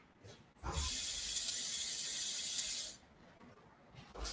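Tap water runs steadily into a container for about two seconds, a bright close hiss starting abruptly and cutting off, with quiet room tone around it and no talking.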